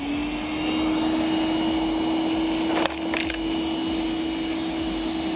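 A Milwaukee M12 Fuel 1.6 gallon portable wet/dry vacuum runs steadily close by, a constant whining hum with a brief rattle of debris being sucked up midway.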